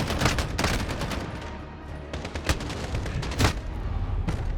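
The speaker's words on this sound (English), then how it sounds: "Where did that shot come from?" Rapid gunfire in the Modern Warfare video game campaign, a burst of loud, close automatic shots, then several heavy single booming shots spaced apart.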